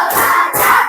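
A classroom of students claps together in unison, producing two loud, dense bursts of clapping in quick succession as part of a counted clapping routine.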